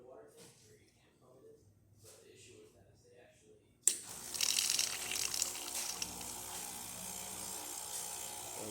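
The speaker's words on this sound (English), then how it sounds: "let me test also the hot water." A Breville Oracle Touch espresso machine dispenses hot water, bursting into a loud, steady hiss and splash that continues after some quiet, mumbled talk at the start.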